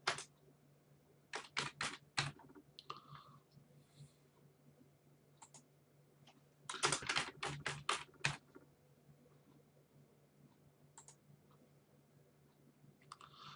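Typing on a computer keyboard while filling in a Facebook event online, two distinct bursts of rapid sharp key clicks with a few scattered taps in a quiet room.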